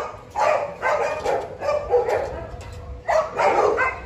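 Dobermans and other dogs bark at a kennel, several loud close bursts of barking in a row with brief pauses, some yipping mixed in.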